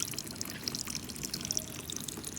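Water is poured into a pipe for a fish pond overflow, a faint, close trickle broken by small, quick drips and splashes, with no talking.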